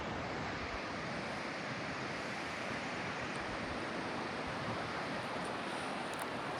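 A monsoon waterfall at Malshej Ghat roars in a continuous, even wash of broadband rushing water, steady and fairly loud with no breaks or voices.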